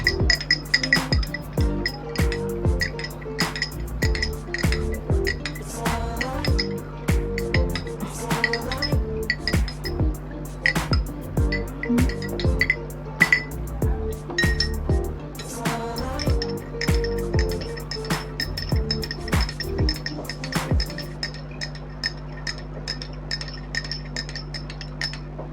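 A spoon clinks repeatedly against a glass while stirring honey into a drink, producing a rapid series of bright, close tinkling taps that continue steadily over a low background hum before stopping near the end.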